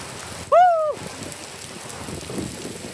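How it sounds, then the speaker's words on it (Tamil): Light rain falls in sunshine during a village temple festival, a soft steady patter throughout, with one brief high chirp near the start. "வெயிலும் அடிக்குது, அட் த சேம் டைம் மழையும் பெய்யுதுங்க."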